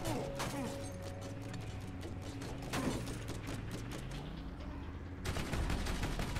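Turret gunfire in the shooter game Borderlands, a sustained rapid rattle of automatic shots under a droning mechanical hum, with sharper bursts near the start, mid-clip and toward the end.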